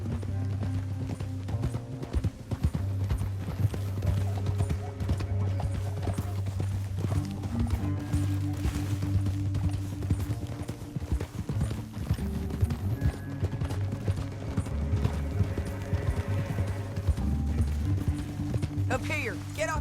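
Rhythmic clip-clop of horse hooves running steadily throughout in Red Dead Redemption 2, over a sustained musical backdrop, with voices briefly heard and an occasional whinny.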